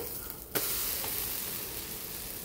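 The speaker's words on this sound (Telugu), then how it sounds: "వాయిస్ రికార్డ్ చేస్తూ పక్కన దోశ వేస్తున్నాను. సౌండ్ ఏమైనా వస్తే ఇగ్నోర్ ప్లీజ్" Dosa batter sizzling on a hot pan in a home kitchen, a steady soft hiss throughout, with a sharp tap early on, faint and continuous with no talking.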